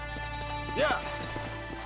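Horse hooves clip-clopping in Red Dead Redemption 2, a few soft steps under game music with a brief whinny-like sound partway through, while voices talk.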